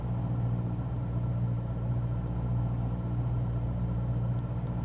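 A Cessna 172SP engine idles at 1800 RPM in Microsoft Flight Simulator 2020, a steady, loud, low propeller drone with an even rumbling hum and no talk.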